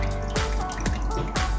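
Running water trickles and drips as fish is rinsed under a tap, with three distinct splashy drips over a steady stream.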